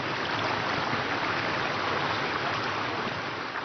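Water runs steadily through a wooden sluice used for traditional gold panning in a high mountain village in Georgia, a continuous broadband rush with no pauses, close and fairly loud throughout.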